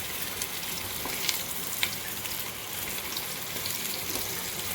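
Sujir litti fries in oil in a pan, a continuous close sizzle and crackle with scattered sharper pops, steady and unbroken, with no voices over it.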